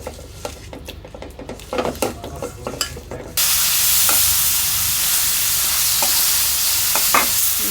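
Fish sautéing with ginger-garlic paste, onion, green chili and spices in a pot: clinks and scrapes of stirring, then a steady loud sizzle with occasional spoon knocks.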